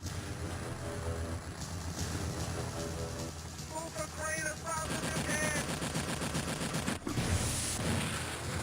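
Rapid electronic gunfire bursts from a pinball game run continuously and loudly, layered with bright chiming tones and a busy machine clatter, briefly cutting out near the end before the shooting resumes.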